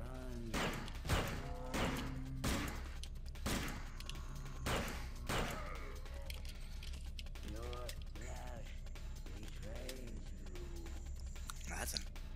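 Enemies fire shotguns in System Shock 2, with several sharp, close blasts spaced across the scene. Mechanical clanks and electronic game sounds fill the gaps, and a voice talks briefly.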